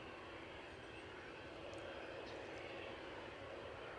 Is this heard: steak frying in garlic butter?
no